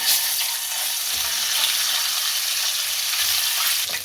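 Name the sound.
frying garlic ginger paste in oil in a kadai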